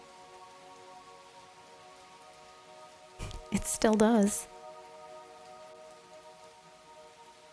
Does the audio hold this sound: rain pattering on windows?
yes